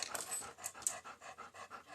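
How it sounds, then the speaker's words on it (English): A dog pants rapidly and steadily up close, with quick, even breaths repeating throughout, and no voices. "You are a crazy dog."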